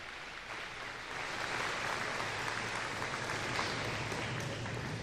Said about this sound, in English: Let's give Mr. Sandifer one more round of applause